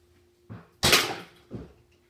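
An arrow tipped with a Ramcat Pro broadhead strikes ballistics gel, one sharp impact thump flanked by fainter knocks, short and moderately close with no talking.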